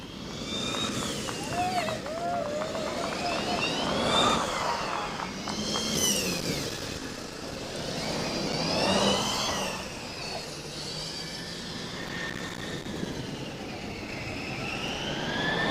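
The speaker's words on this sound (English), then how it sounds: "we follow the drone and the Running Snails car up the hill" A Formula Student race car drives uphill at an endurance event, its engine note rising and falling at a distance over crowd noise, with other high-pitched tones drifting through.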